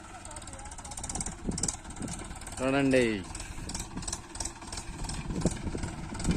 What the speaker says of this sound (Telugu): వస్తుందండి ట్రాక్టర్